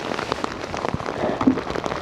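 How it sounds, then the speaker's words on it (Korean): A sudden summer rain shower falls outdoors during crab trapping, a steady dense patter of drops hitting surfaces, with no talk. "시원하게 내리네 이것도 소나기입니다"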